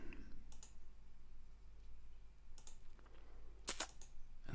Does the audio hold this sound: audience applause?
no